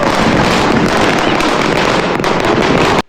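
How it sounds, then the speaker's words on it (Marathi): Firecrackers set off during a festive celebration burst in a dense, loud, continuous crackle of rapid pops, close by, with a few sharper cracks standing out before the sound cuts off abruptly. "आता बघा मी पण मस्त आता फटाके फोडतो"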